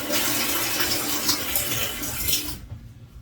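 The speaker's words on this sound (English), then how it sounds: "if I push this button on the front, it's going to shoot some water out there" Water jet on a Samsung washer sprays a loud, steady rush of water for about two and a half seconds, then cuts off abruptly into near silence.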